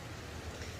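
Steady rain falls outdoors, a dense, even hiss of drops on surfaces that stays constant and fairly close with no pauses or voices.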